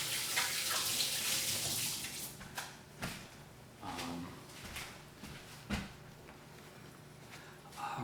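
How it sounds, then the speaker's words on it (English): Water spraying in a steady hiss that swells and fades, with brief clunks and knocks scattered throughout, fairly close. "Spraying water"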